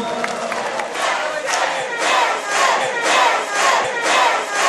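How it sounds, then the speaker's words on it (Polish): A crowd cheers and whistles with rhythmic shouts in applause for a band at a carnival dance, a steady dense roar with rising and falling swells throughout. "Wielkie brawa dla panów, za cały show"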